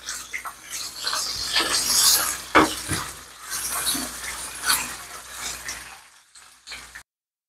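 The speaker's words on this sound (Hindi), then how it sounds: "अब हम इसे ऊपर नीचे कर देते हैं, मिक्स कर लेते हैं।" Crushed garlic and ginger paste being stirred into chicken stew in a pot, a close, uneven scraping and sizzling mix with irregular clatters that falls away to silence near the end.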